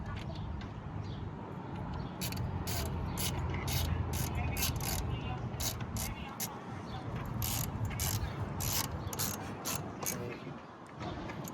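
A ratchet tightens bolts while a 90mm throttle body is installed on a car, clicking in rapid repeated bursts of strokes over a steady background hum, close to the microphone.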